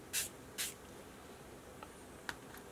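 A spray bottle of colour ink gives two short, quick sprays close together, followed by faint small clicks in a quiet room.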